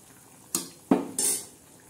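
Metal clanks and scrapes of a spoon stirring a pan of stuffed eggplant curry with bombil (Bombay duck) fish, three distinct knocks over a soft background, no talk.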